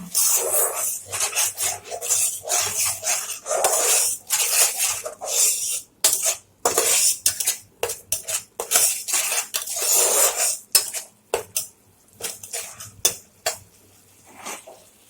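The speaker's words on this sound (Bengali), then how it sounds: "মশলাটা বানিয়ে রেখেছি, দিয়ে দেব। নাড়াচাড়া করে ভেজে নেব।" Spice paste is stirred and fried in a pan, producing continuous loud scraping and rasping strokes of a utensil against the metal, with sizzling underneath and short pauses between strokes.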